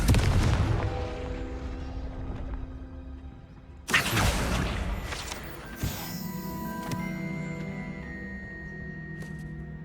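A Confringo spell in Hogwarts Legacy erupts in a heavy booming blast that decays into ringing tones, followed by two more sharp impacts with shimmering, resonant tails.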